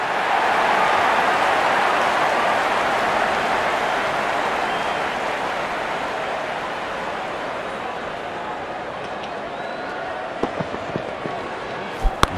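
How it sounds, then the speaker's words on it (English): Crowd at a cricket match cheering and applauding after a boundary, a broad steady roar that slowly fades, with a few sharp claps or knocks near the end. "The crowd is enjoying every bit of this action."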